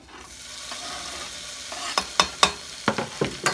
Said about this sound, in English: once the onions have gotten soft, browned a little bit, then pop in some tomato